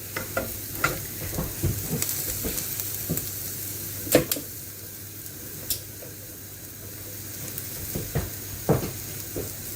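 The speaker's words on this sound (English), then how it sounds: "Fry a few slices at a time." Aubergine slices fry a few at a time in a small pan, giving a constant hissing sizzle broken by scattered sharp clicks and scrapes of a utensil, close by and with no talking.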